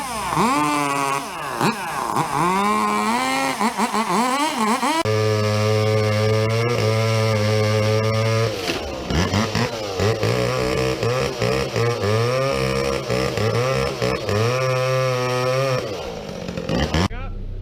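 Two-stroke chainsaw cutting up a fallen tree during removal of a tree from a house, engine revving and bogging repeatedly in loud, uneven bursts throughout, with voices talking over it.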